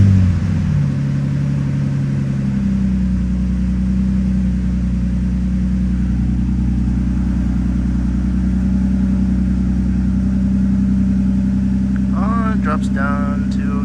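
A Nissan Skyline engine idles after a cleaner treatment, giving a steady low drone and rumble that stays even throughout, with a brief voice near the end.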